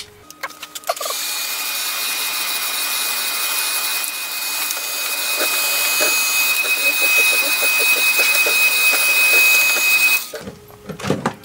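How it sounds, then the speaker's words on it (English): A craft heat tool drying beaded lace leaves, a steady whooshing blower with a thin high whine running for about nine seconds, starting and stopping abruptly, with faint clicks around it. "I'm impatient, so I'm going to use my heat tool."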